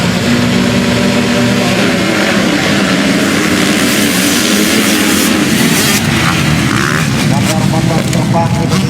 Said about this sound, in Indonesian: Motor-motor terbang Indonesia.